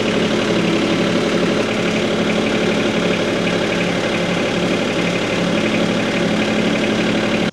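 Loader tractor engine idling as it moves into position to attach pallet forks, a loud, close, continuous diesel chug with a steady knocking rhythm and no voices.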